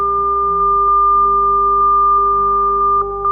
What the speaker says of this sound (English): you can hear those different dimensions in the changing tones. There's a harmonic component there